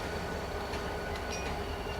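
A passing train rumbles steadily and loudly throughout, with faint metallic wheel squeals rising briefly over the continuous roar of rail cars, and no voices.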